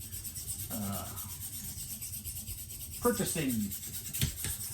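Knife blade drawn across a KME sharpening stone, giving steady abrasive rubbing strokes up close, with a brief tonal hum and a few sharper scrapes near the end, no speech.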